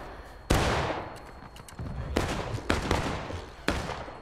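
Cannon fire in the Civil War battle game War of Rights, several loud booming blasts with long rumbling decays, one close heavy shot followed by further reports at irregular intervals over a low battlefield din.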